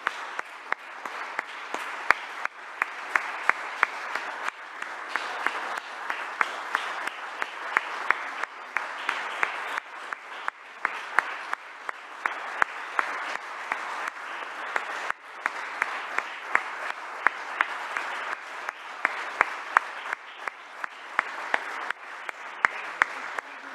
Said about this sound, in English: As you can see from the sustained applause, we're going to miss you